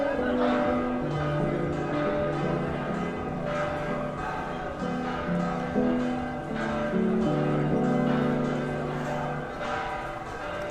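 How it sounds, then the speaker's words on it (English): Church bells ring through the streets of Trapani, Sicily, a dense continuous peal of overlapping tones sounding steadily and fairly loud for over ten seconds, with no talk. "there I can see some bell rings from church"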